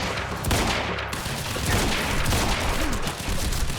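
Rapid gunfire against enemies in the PC shooter Quantum Break, a dense, loud burst of overlapping shots and impacts sustained close throughout with no pause or talk.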